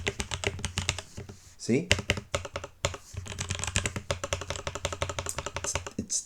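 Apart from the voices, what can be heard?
computer keyboard typing with dull spacebar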